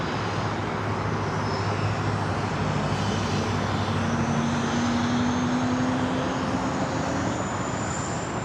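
An airliner turning on taxiway Alpha at Los Angeles International Airport, its engines giving a steady, loud whine and rumble that holds through the turn, with slowly shifting tones.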